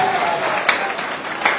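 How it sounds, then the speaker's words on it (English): A crowd of party delegates at a Chiana constituency gathering gives a loud, dense round of clapping, with a couple of sharper peaks and voices mixed in. "A big round of applause for yourself."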